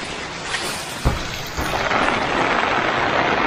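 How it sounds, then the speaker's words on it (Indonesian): Heavy rain pours steadily over a village in southern Cianjur, Indonesia, a dense continuous hiss that swells louder partway through, with a single dull thump near the middle. "Tambah deras lagi hujannya sekarang."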